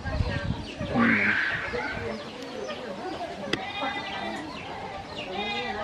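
Chickens kept outside near a quail cage cluck and call from close by, with a talking voice over them and a sharp click partway through.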